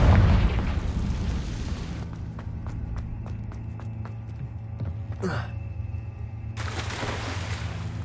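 The Confringo explosion spell in Hogwarts Legacy opens with a loud, deep blast that slowly fades into a lower rumble. Faint ticks and a short whoosh follow, then a softer burst near the end.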